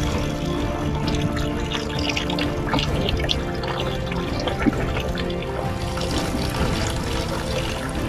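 Water trickles and splashes steadily from an ancient sacred spring fountain at the Asklepion healing sanctuary in Pergamon, a continuous close-up flow with no talk.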